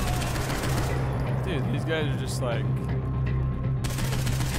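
Rapid gunfire rattles in Saints Row IV: bursts of shots and explosive effects layered over game sound while someone talks casually over the action.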